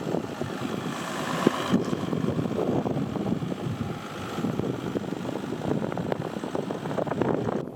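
Off-road vehicles idling while linked in a daisy chain on a trail, including a Toyota Tacoma, a 4Runner on 35-inch tires and a Jeep: a low, steady engine rumble with wind noise outdoors.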